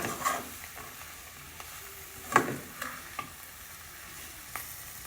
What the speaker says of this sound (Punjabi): ਇਹਨਾਂ ਨੂੰ ਆਪਾਂ 2 ਮਿੰਟ ਸੇਕ ਲਵਾਵਾਂਗੇ